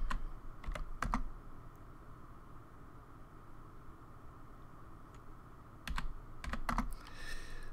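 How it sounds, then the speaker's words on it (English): Keys clack on a computer keyboard in quick bursts, first at the start and again near the end, with a quiet stretch of faint background hiss between them. "let me type that in"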